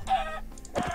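A chicken in Minecraft gives two short, close clucks about half a second apart, clear and alone with no talk over them.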